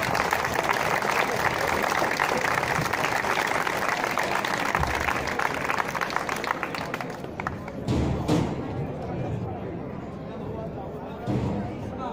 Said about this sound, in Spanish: Un aplauso a nuestro hijo del pueblo.